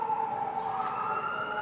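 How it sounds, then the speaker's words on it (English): An ambulance siren wails steadily and fairly loudly, a continuous tone with a slight upward sweep partway through, heard alone with no talk. "Dodge the ambulance."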